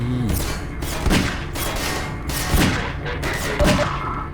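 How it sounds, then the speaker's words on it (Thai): Gunfire in the video game Half-Life 2, a series of sharp, loud shots and booming impacts arriving in irregular bursts about once a second, each with a short ringing tail over a low background rumble. "ยิงปืนนี่ยากมากเลย"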